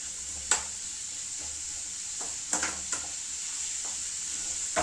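Tomatoes drop into a hot frying pan for chicken biryani, setting off a steady sizzle with a few sharp clatters and stirring scrapes, and a voice speaks faintly in the background.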